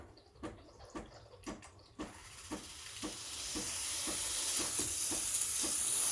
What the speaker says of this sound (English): The longer you wait, the stronger the steam will become, as you see now.